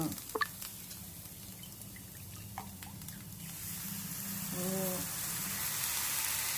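Rava dosa batter sizzles on a hot pan, starting with a few clicks and drips and building into a steady, close, gentle hiss, with faint talk underneath.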